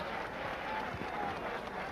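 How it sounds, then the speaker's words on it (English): Steady applause from a large boxing crowd fills the whole stretch, dense and continuous without breaks. "Another nice round of applause"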